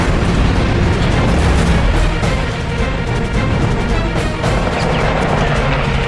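Explosion of a Japanese Zero fighter plane shot down at night, a dense, sustained roar of blast and fire that stays loud and rumbling throughout, with crackling bursts on top.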